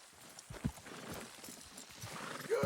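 Faint hoof clops of horses moving at a steady pace in a video game, with a brief whinny-like sound rising near the end, quiet and somewhat distant.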